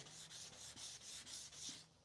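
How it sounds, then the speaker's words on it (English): Dried walnut sawdust and wood glue being sanded off a wooden logo by hand, eight even back-and-forth strokes with a rough, hissing scrape, close and steady. "now I'm just sanding off all of that dried up sawdust and wood glue"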